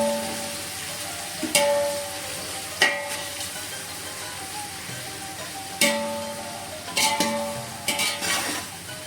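Sizzling of 300 grams of onions sautéing in a pan for Muslim-style mutton dum biryani, a steady fry under repeated sharp scrapes and stirs of a utensil against the pan.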